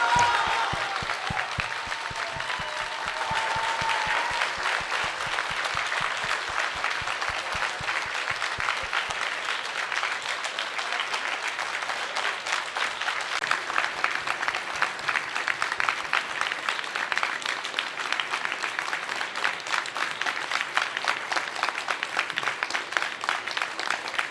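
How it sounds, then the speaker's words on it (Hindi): A festival audience welcomes a guest at a literature festival with loud, sustained applause that continues evenly for a long stretch, full and dense throughout, with no talking over it. "जोरदार तालियों से स्वागत करें।"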